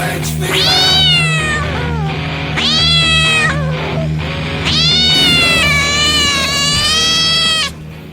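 A cat meows loudly and insistently in several long, drawn-out, wavering cries, close up, with brief pauses between them.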